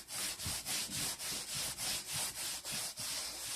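Light sanding of a painted cabinet-door tray with steady rhythmic strokes back and forth, about a dozen even passes with a soft raspy hiss, close up and alone.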